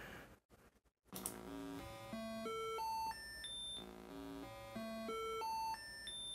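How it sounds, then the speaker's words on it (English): A 6502-controlled digital tone generator beeps out a sequence of pure electronic tones, each stepping up an octave in a rising staircase, run twice in a row after a brief click at the start. "You can hear the stepping up octave by octave."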